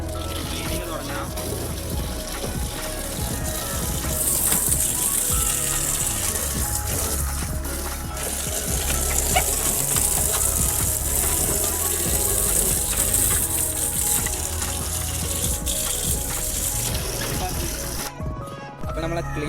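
Water runs and splashes steadily while a fridge converted into an aquarium is cleaned, a continuous gushing wash with background music throughout.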